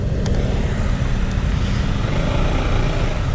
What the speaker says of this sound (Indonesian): Ini macet lampu merah, kita lewatin dulu dah.